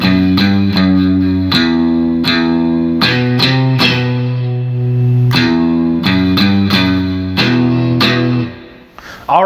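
A distorted electric guitar plays an intro riff with all down strokes, loud and close, sustained chords struck in a steady pattern with a brief scrape at the end, no talk.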